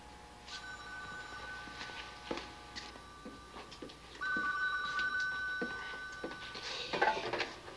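A telephone rings indoors, faint and thin, with a few bell-like rings amid quiet background clatter and no talk.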